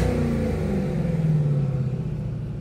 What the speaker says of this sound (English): This is a monster 5-liter engine, supercharged.